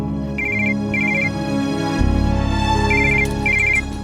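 A phone ringtone repeats short high electronic beeping bursts in a steady pattern, playing clearly over a low background hum.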